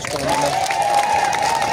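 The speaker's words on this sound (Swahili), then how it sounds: "makofi ya mzee?" A crowd at a Kenyan political gathering applauds an elder, giving a dense burst of clapping and cheering with a voice calling out over the noise.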